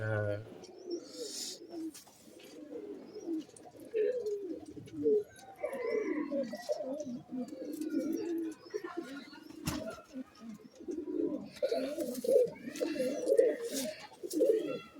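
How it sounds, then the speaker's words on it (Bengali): Pet pigeons in a loft cooing in soft, repeated low calls, close by and fairly steady, mixed with some chirps, with people talking over them. "এই যে একটা পায়রা দেখছি"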